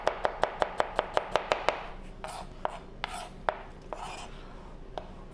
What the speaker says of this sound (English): Just gonna julienne some sweet onions.